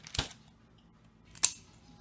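Two crisp close snips about a second apart as parts are cut off a trout at home while preparing it for cooking, each a short sharp cut in an otherwise quiet room.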